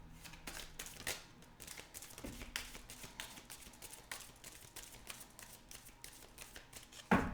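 Oracle cards shuffled by hand give a string of soft, rapid riffles and taps, close up and fairly quiet, ending in a louder thump.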